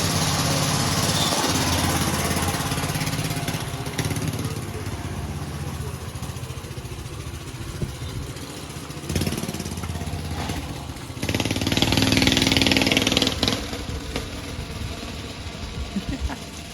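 A go-kart engine runs steadily nearby, a buzzing small-engine drone that idles and revs, rising louder toward the end.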